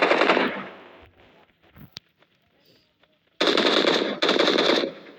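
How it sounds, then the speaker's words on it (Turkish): Automatic gunfire rattles in PUBG Mobile, a loud close burst at the start, then a pause with a single sharp shot, followed by two more sustained sprays of rapid fire. "Adam Meksika silahla tarıyor."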